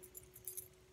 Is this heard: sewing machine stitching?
no